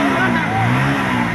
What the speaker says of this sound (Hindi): ये देखिए मोटरसाइकिल का खेल।